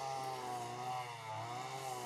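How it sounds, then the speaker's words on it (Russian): A gas-powered string trimmer cuts grass in an open field, a steady high whining engine drone with strong harmonic overtones, sustained and close throughout with slight dips in pitch as the load changes. "сейчас триммером"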